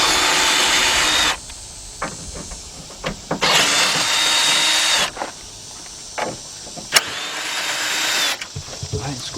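A handheld power tool backs bolts out of the radiator fan assembly on a 2006-2010 Chrysler PT Cruiser, running in three loud whirring bursts separated by quieter gaps with small clicks and handling noises.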